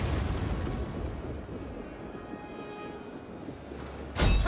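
Field artillery in the historical strategy game Rome II fires with one sudden loud boom near the end, after a stretch of low, distant battlefield rumble.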